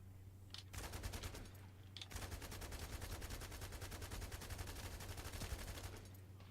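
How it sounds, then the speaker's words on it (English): Rapid automatic gunfire from the video game The First Descendant, long sustained bursts with a brief gap, loud and continuous over a steady low hum. "Terrible shooting there."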